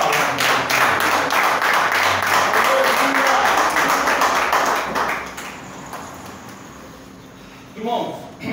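A church congregation claps together in a dense burst of applause for about five seconds before it fades, and a voice speaks over it.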